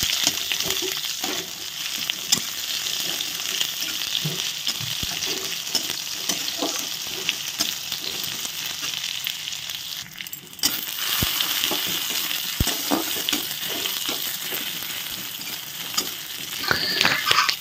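Panch phoron, two dried chillies and onion fry in hot oil with a loud, continuous sizzle, dotted with frequent clicks and scrapes of stirring, and no talking.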